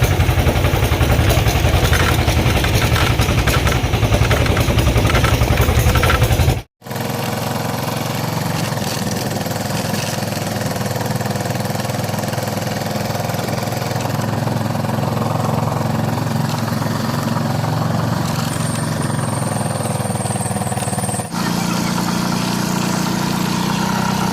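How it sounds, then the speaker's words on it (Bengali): A motorized van engine drones loudly and continuously up close on a bad road, a steady mechanical rumble with one brief break early on. "ইঞ্জিন ভ্যানে করে"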